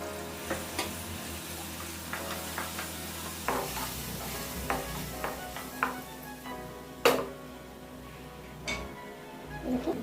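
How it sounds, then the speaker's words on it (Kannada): Ground masala being stirred into radish palya in a pan, a spoon scraping and clinking against the metal in irregular strokes over a steady low sizzle, close and fairly quiet, with no voices. "ಈಗ ನಾನು ರುಬ್ಬಿಟ್ಕೊಂಡಿದ್ನೆಲ್ಲ ಮಸಾಲೆ ಅದನ್ನ ಮಿಕ್ಸ್ ಮಾಡ್ತೀನಿ."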